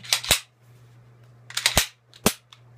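Glock 19 Gen 3 pistol being unloaded: three crisp metallic clacks from slide and magazine handling, close and loud, separated by short pauses over a steady low hum, with no talking.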